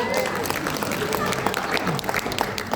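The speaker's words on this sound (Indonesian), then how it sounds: "Tepuk tangan buat mereka berdua" Church congregation applause for two people, a moderate scattered patter of clapping heard fairly quietly under a speaker's voice.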